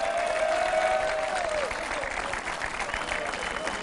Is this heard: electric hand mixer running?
no